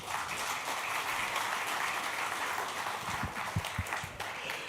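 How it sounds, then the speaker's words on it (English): A seated audience at a watch-collecting panel event applauds two guests, a dense, even patter of clapping at moderate distance that fades slightly toward the end. "Give a round of applause to these two gentlemen, please."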